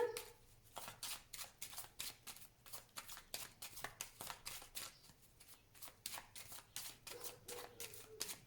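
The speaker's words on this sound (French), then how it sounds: "Je vais faire une coupe avec le tarot que j'utilise pour les consultations prédictives" A tarot deck being shuffled and cut, giving a close, steady run of rapid riffling card flutters with short pauses between bursts and no speech over it.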